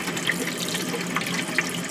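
Water runs from a tap in an RV after a heat exchanger has replaced the water heater, a close, steady splashing rush with faint clinks, no talking.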